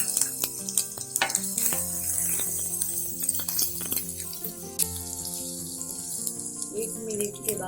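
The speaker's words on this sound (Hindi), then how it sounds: "उसके बाद जीरा और राई डालेंगे। अब अदरक लहसुन पेस्ट" Cumin, mustard seeds and ginger-garlic paste crackle in hot oil for a veg roll filling, a busy close sizzle with popping seeds, utensil clatter and running-water-like hiss throughout.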